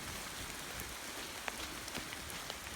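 Steady outdoor rain falls as a continuous soft hiss, with occasional louder drops and patters standing out briefly against the even wash of sound.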